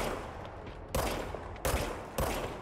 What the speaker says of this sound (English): now I have a gun